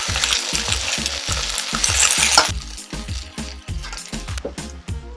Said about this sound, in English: Raise the heat to high and stir fry.